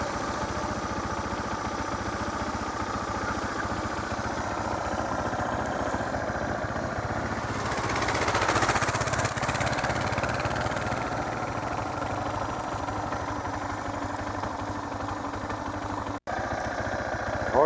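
Dual-sport motorcycles idle close by on a Big Bend ride near the Pecos River, a steady, loud mechanical drone that swells briefly midway and then settles back, with no speech.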